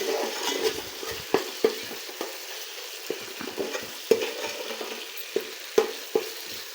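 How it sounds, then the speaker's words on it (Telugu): Ginger-garlic paste frying toward golden brown in a pan for biryani, a steady close sizzle broken by repeated sharp scrapes and clicks of a spoon stirring, with no voices. "అల్లం చిన్నులపాయ బాగా గోల్డెన్ బ్రౌన్ కలర్లోకి వచ్చేటట్టు వేయించుకోవాలండి"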